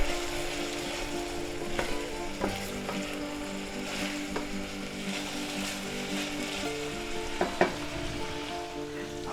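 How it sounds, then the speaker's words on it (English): Rosemary, thyme, salt and pepper being stirred into a pot of potato and ham soup, with a soft steady sizzle under scattered scraping spoon knocks, close and fairly quiet. "and we'll stir that in"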